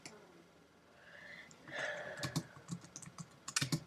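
Typing on a computer keyboard for a Photoshop text demonstration: quick, uneven clusters of close key clicks, growing busier toward the end, following a soft breathy sound.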